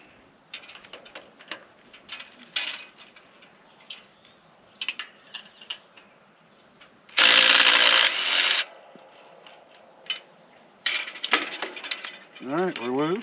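Hand wrench loosening a bolt on a wheel of an H&S hay rake, with irregular ratcheting clicks and metallic clanks up close and a longer grinding burst partway through.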